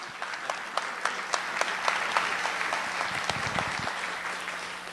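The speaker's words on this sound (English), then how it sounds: "So let's give Jim a round of applause" An audience at a local candidate debate gives the moderator a round of applause, with steady, sustained clapping from a modest crowd lasting several seconds and no speech over it.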